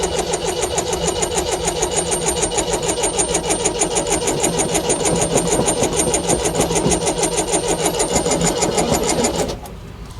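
A 1993 Mercedes SL500 running on old gas cranks over steadily with a loud, fast rhythmic starter churn that holds for about nine seconds before cutting off.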